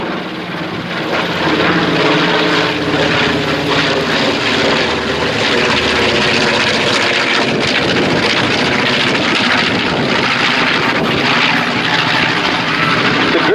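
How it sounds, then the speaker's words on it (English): A B-25 bomber's Wright Cyclone radial engines thunder at a warbird weekend, a loud, continuous heavy drone with rough propeller and exhaust texture that holds steady throughout with some wind buffeting. "The great exhaust note of the B-25, those Wright Cyclones just thundering away."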